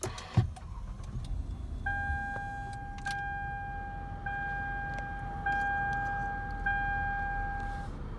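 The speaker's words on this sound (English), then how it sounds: "put your foot on the brake and hit the engine start button" A 2009 Lexus ES 350 at push-button start: a chiming tone pattern repeats steadily over a low, continuous idle hum, fairly quiet and close, with a brief click near the start and no talking.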